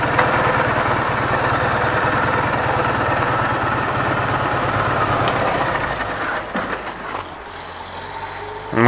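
A Ural motorcycle engine idles outdoors with a steady, loud, throbbing rumble. It stays close and constant, then wavers near the end as other noises break in.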